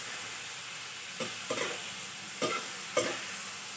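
Stingray pieces sizzling in a hot pan for adobo, a steady fry hiss with a few sharp spattering bursts as the fish hits the oil, no talking.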